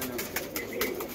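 Pigeons coo softly in a loft where birds are being sold, a few close, low, rolling calls in quick succession over a steady background hum.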